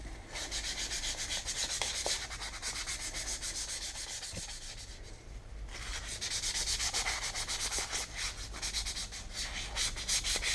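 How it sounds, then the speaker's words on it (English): Wet sanding of an aluminum bicycle crankarm with 400 grit sandpaper: steady, close rhythmic rubbing strokes that run continuously, easing briefly midway before resuming at full strength, with no talking. "with the 400 and above, we're going to start wet sanding it"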